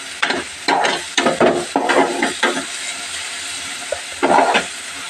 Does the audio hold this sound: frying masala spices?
yes